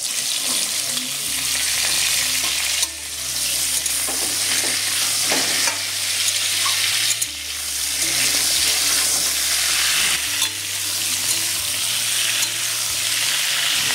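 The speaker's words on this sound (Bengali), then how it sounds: "ওই তেলের মধ্যে আমি দিয়ে দিচ্ছি জিরে ফোড়ন। এবারে একে একে কেটে রাখা আলু আর ডাঁটা দিয়ে দেবো।" Cumin, cut potatoes and drumstick stems sizzle loudly in hot oil, a continuous close frying hiss broken by the scrape and clatter of stirring, with no voices.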